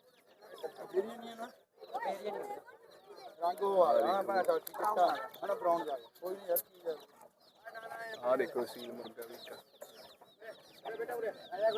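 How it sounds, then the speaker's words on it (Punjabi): Several hens with chicks cluck and chatter nearby at a horse fair in uneven bursts, with soft peeping and occasional rooster crowing-like calls mixed in. "ਦੇਖੋ ਮੁਰਗੀ ਸਣੇ ਬੱਚੇ ਨੇ ਇਹ ਆ ਕੁੱਕੜ ਦੇਖੋ"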